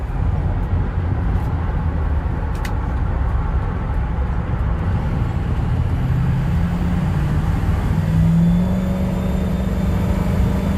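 Cabin of a 2007 Ford F-250 4WD Lariat with a 6.0L Powerstroke diesel and six-speed transmission cruising at about 70 mph on a highway, a loud steady low rumble of engine and road noise with wind hiss above.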